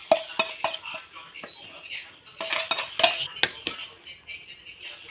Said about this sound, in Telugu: ఇలా కలుపుకొని దింపేసుకొని అన్నంలో కలిపేసుకోవాలండి.